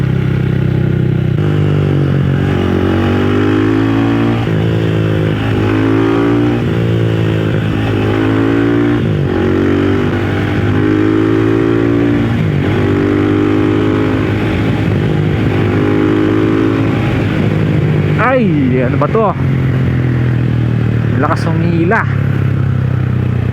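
A motorcycle engine idles loudly up close, then revs repeatedly in rising bursts, with rattling mechanical clatter and a sharp whine near the end.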